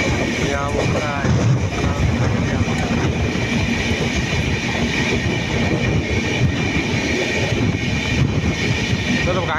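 Rattling roar of an Indian railway train on the Thane to Jalgaon route, a loud continuous rumble with faint clickety-clack, heard from inside a carriage with voices mixed in.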